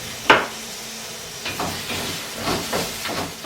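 Molasses ginger beef stir fry sizzles in a hot pan, a steady hiss broken by a sharp clatter near the start and several soft bursts of spatter as it is stirred.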